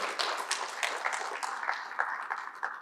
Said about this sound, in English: please, once again, be proud and applaud yourself